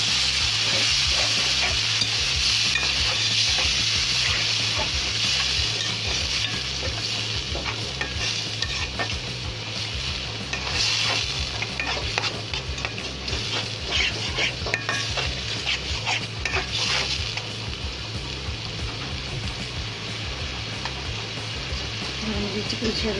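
Tomatoes hit a hot pan of dried fish curry, giving a steady close sizzle with stirring and faint utensil scrapes, continuous over twenty seconds beneath a low hum.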